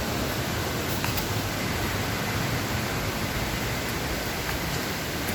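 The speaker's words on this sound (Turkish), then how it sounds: "Şelaleye yaklaştık." A waterfall in the Karachay mountains pours in a constant, dense roar of rushing water, loud and unbroken, with no voices over it.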